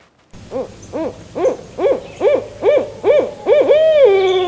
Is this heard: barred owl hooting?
yes